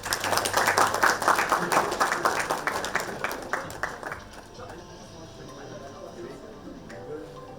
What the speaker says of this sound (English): Please, let's have a clap.